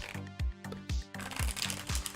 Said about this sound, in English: I believe these cards are pretty shuffled